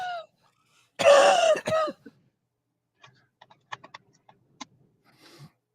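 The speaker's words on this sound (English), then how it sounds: "I had to cough." A person coughs a few times close up, with a short throat-clearing burst, then faint keyboard taps and clicks in a quiet room.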